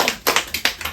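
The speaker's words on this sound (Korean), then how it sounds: "판님 뒤에는 박수 한번 쳐주세요." A small group claps briefly in a church study class. Six or so sharp, close hand claps land in quick, uneven succession within a second.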